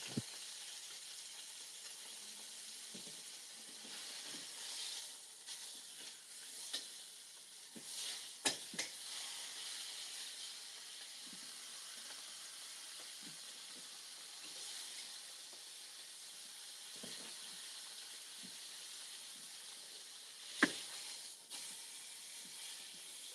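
Venison roast searing in a pan, a steady soft sizzling hiss running throughout with occasional faint pops and clicks, no talk.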